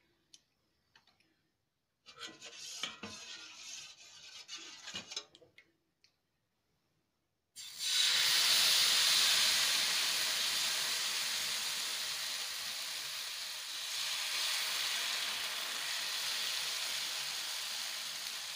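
Rava dosa batter hits a hot oiled pan and breaks into a loud, steady sizzle that slowly eases, after a few faint clicks and some quiet handling noise.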